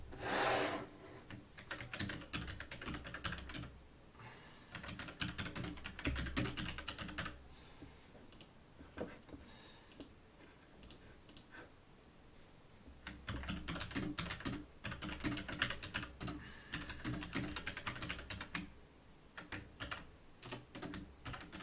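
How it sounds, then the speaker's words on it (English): Steady typing on a computer keyboard, rapid clattering keystrokes running in bursts with brief pauses, close and fairly quiet, with no talking. "Let's put on some music to make my incessant typing seem less"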